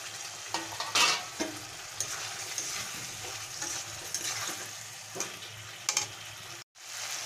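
Potatoes frying in a spice paste for a mutton fat curry, a soft steady sizzle broken by several scraping stirs of a spoon against the pot, and a brief dropout near the end.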